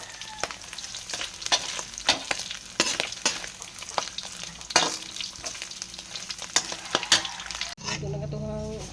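Pancit noodles with vegetables cooking in a pan, a loud close sizzle with repeated rhythmic scraping and stirring strokes, then a hissing burst near the end.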